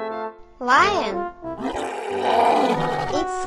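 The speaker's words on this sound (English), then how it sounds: "It's lion." Lion roaring, a loud voiced roar with sweeping pitch and growling grunts, close and prominent, with a voice speaking around it.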